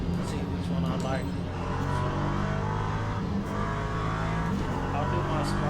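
An LMP3 prototype race car, likely a Ligier, drones continuously at Paul Ricard in Le Mans Ultimate, its engine loud and close with rising and falling revs through gear changes, while someone talks over it.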